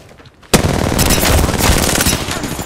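Automatic weapon fire from the Apex Legends video game: after a quiet start comes a loud, sustained rapid burst of gunshots that runs to the end.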